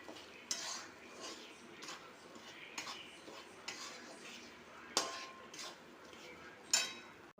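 Wheat flour roasting in ghee in a pan is stirred with a metal utensil, giving soft scraping and irregular sharp clinks against the pan, fairly close and quiet.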